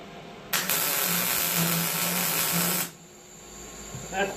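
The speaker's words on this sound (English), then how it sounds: "Let's tack weld these corners." Tack welding the corners of a steel table with a welder: one steady broadband hiss and crackle of about two and a half seconds, loud and close, starting and stopping abruptly.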